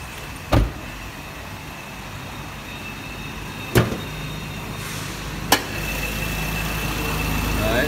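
A 2010 Toyota Vios engine idles steadily with the hood open, a low smooth hum broken by three sharp clicks or knocks.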